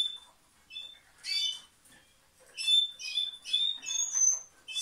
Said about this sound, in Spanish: Cuatro profundos os acaba de dar ese pájaro.